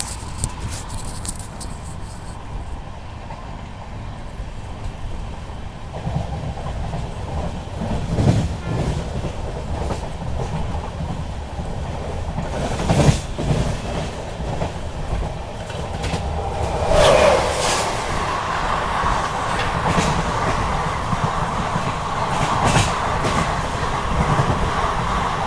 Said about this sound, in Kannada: ನಮ್ಮ ಜೊತೆ ಕ್ರಾಸಿಂಗಿಗೆ ಬರ್ತಾಯಿದೆ ತಾಳಗುಪ್ಪ ಮೈಸೂರು ಓವರ್ನೈಟ್ ಎಕ್ಸ್ಪ್ರೆಸ್